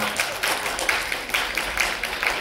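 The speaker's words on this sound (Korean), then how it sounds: "뜨거운 박수 부탁드리겠습니다" Audience applause welcoming guests onto the stage at a Japanese horror film screening event, a steady moderate patter of many hands clapping throughout with no talk.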